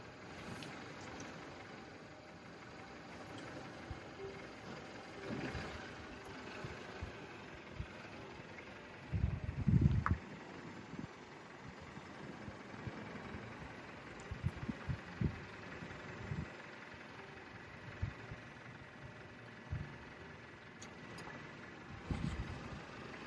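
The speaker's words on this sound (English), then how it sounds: "So I'm just going to back the car straight up onto that line." A Mercedes car engine idling low and steady while the car backs up, a faint continuous rumble with a few brief thumps and knocks scattered through it.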